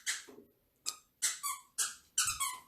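A dog squeaks a squeaky toy in the background, sending out a quick series of sharp, high-pitched squeaks in an irregular, stop-start rhythm, fairly loud against a quiet room.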